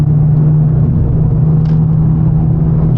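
A car drives along a dry road, heard as a loud, steady low engine rumble throughout, recorded from inside a following vehicle.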